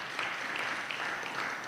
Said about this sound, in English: Kenyans, you must clap for yourselves